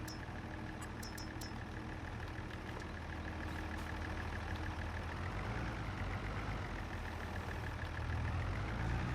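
A tractor engine idles steadily in Farming Simulator 22, a low continuous rumble that holds at an even level throughout with no speech over it.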